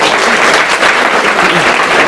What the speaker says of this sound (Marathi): या तुमचं दादांसाठी एकदा जोरदार टाळ्या होऊ द्या